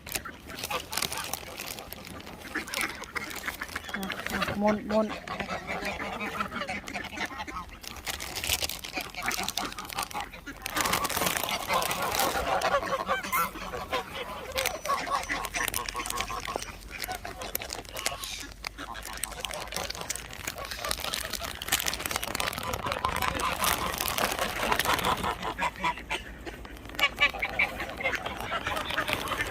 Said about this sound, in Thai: เป็ดนี่นะ